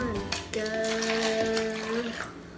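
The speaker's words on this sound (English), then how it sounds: "now Corbin is gonna start pouring the liquids in all the cups" Liquids are poured into cups at home for a kids' science experiment, a steady trickle and splash lasting a couple of seconds, with a tone sounding over it.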